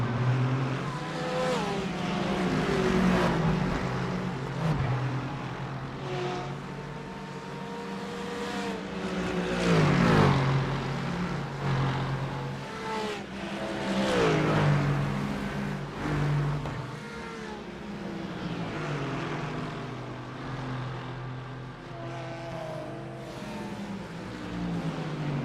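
Mercedes-AMG race cars at Bathurst roar past at speed, their engines droning and swelling in pitch as several cars pass, loud and continuous with no talk.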